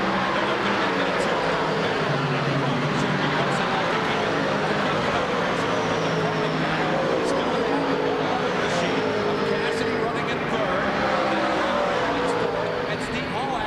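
Race cars lap Syracuse Speedway in New York during the 1998 Savon Convenience Store 30, their engines a steady, dense roar that never lets up, with a commentator talking over it throughout.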